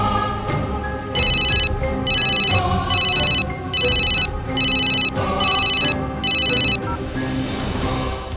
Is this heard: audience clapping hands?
no